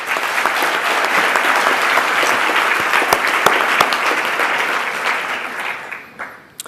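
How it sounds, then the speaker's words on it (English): Audience applause fills an awards ceremony hall, a steady dense wash of clapping that holds strong for about five seconds before thinning and tapering off at the end. "So a round of applause."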